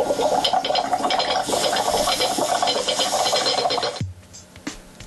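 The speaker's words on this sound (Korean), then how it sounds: "찌개가 끓다가 넘치는 소리가 완성됐습니다" Foley re-creation of stew boiling over, built from a plate rubbed on a glass and a hot soldering iron pressed on wet tissue: a dense, continuous sizzling bubble that cuts off abruptly near the end, leaving faint trickles.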